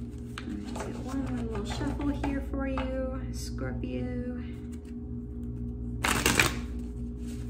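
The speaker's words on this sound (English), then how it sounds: "I'm gonna do one more little shuffle here for you" Tarot or oracle cards shuffled during a reading, a soft papery riffle in short bursts over a steady low background hum, with one louder, brighter flurry of cards near the end.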